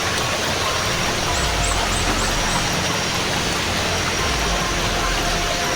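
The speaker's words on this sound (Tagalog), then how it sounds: "Talagang naabutan tayo ng ulan dito." Steady rain pours outdoors in a rocky area, a dense continuous hiss that covers the whole stretch with no clear voices above it.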